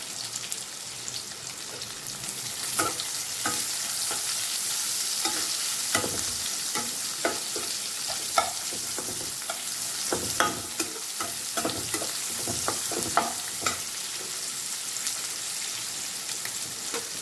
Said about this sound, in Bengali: পেঁয়াজটা দিয়ে দেবো, কুচানো পেঁয়াজ।